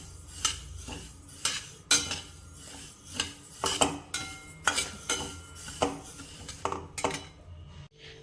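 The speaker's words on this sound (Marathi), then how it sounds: "छान लो फ्लेमवर असे भाजून घेऊया तीळ." Sesame seeds dry roasting in a pan over a low flame, stirred with a spoon that scrapes and clinks against the metal in a steady rhythm of about a dozen strokes, close and clear with no talking.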